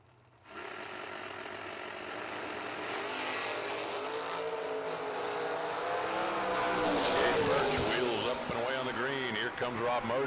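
Drag race cars at a strip event, including a topless Camaro, launch and run past with loud, rising engine roar that builds steadily and stays strong to the end, while a commentator's voice carries over the noise.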